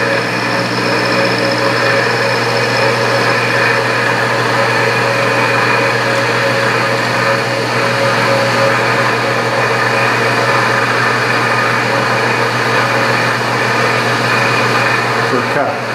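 A metal lathe cuts a scissor knurl at 50 thousandths per cut, giving a steady, close, high-pitched machine whine that holds unbroken throughout.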